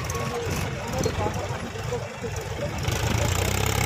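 A Mahindra 265 DI tractor engine labours under a heavy pulling load with a low, throbbing drone that swells and dips, close by, with voices faintly mixed in.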